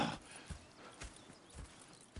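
Horses in Red Dead Redemption 2 clop along at a steady walking pace, soft repeated hoof thuds spaced about half a second apart over a quiet outdoor game ambience.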